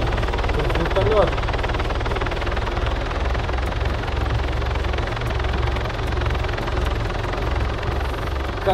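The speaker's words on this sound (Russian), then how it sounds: "Вертолет." Helicopter in the military video game Arma 3 (Altis Life), a steady low rotor drone running continuously under the game mix, with a faint voice briefly heard early on.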